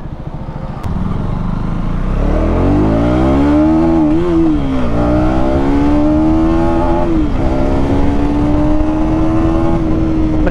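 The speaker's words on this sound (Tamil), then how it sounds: "அண்ட் வண்டியோட எக்ஸாஸ்ட் நோட் நல்லா இருக்குல்ல" A KTM Duke 250 third-generation motorcycle being ridden, its exhaust loud and close, revving up through the gears with rising and dipping pitch over a constant engine drone.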